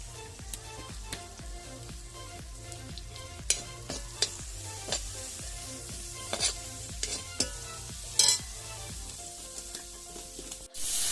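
Sliced onions fry in a pan until browning, village style, with a continuous soft sizzle punctuated by repeated sharp clicks and scrapes of a spoon stirring against the pan.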